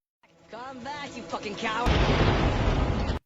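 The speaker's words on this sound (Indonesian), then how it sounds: "Di waktu yang sama tiba-tiba terjadi ledakan yang menewaskan 2 warga lokal suruhan Afi." A sudden explosion in a film about hunting Pablo Escobar's treasure bursts out after a moment of voices, a loud, sustained roaring blast that fills the scene and then cuts off abruptly.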